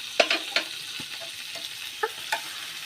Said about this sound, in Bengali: দেখো এর মধ্যে আমি মরিচের খালিশগুলো দিয়ে দিলাম।